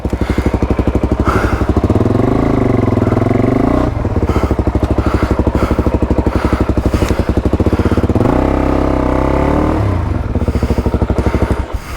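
A Suzuki DRZ400E dirt bike engine on a rough fire trail revs loud and close in rapid, stuttering pulses, bogging down and surging several times over about twelve seconds.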